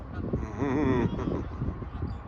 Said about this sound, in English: There's the Canadian geese.